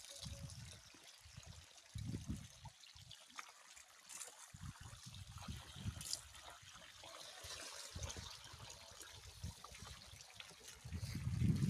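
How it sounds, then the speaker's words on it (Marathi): Borewell water flows into a sugarcane field, a faint, uneven trickle and gurgle heard at a distance, with soft low rumbles now and then in an otherwise quiet outdoor setting. "बघा, पाणी चालू आहे उसाला."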